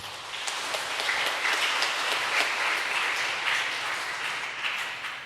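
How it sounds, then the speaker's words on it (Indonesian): Sustained applause from a church congregation at a Sunday service, dense steady clapping filling the room at even loudness for several seconds, with no talk over it. "Mari kita memberikan aplaus kepada"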